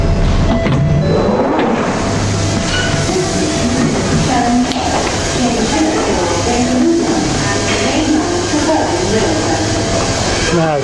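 A London train pulls into Charing Cross station with a loud, dense rumble of wheels on rails and squealing metal, continuous throughout with station clatter mixed in.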